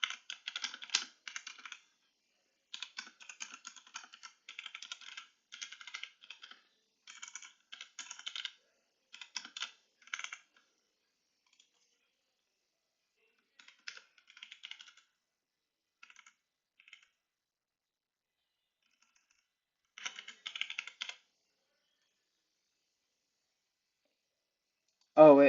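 A computer keyboard clatters in quick bursts of typing during programming, with short pauses between, then several seconds of near silence before a few more keystrokes.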